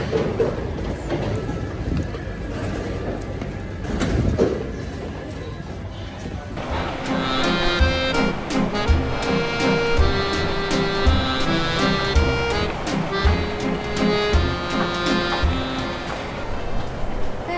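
Rumbling Paris metro train at a platform, with rhythmic wheel clatter, screeching tones and mechanical hum building after a few seconds; voices murmur underneath.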